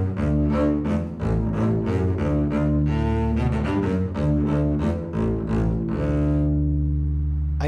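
A bowed string instrument plays a melodic line of distinct fingered notes at steady pace, close and clear, ending on a longer sustained tone.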